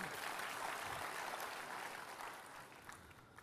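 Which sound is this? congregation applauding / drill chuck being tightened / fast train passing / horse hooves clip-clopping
congregation applauding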